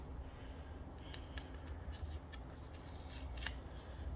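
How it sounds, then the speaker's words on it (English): Old tape being peeled off a hockey stick blade, giving a series of crisp ripping and crackling tears at close range over a steady background hiss, with no voices. "So you take the old tape off."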